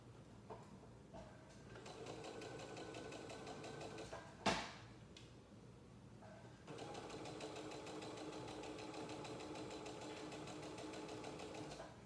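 A sewing machine stitches a pieced red, white and blue jelly-roll quilt top, locking the stitch: a steady rapid whir runs close and loud, breaks off briefly around a single sharp knock, then resumes evenly.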